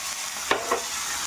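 Ginger paste drops into hot oil already holding bay leaf, cumin, dried chili and five-spice for a potato curry, a steady close sizzle with two short stirring scrapes partway through.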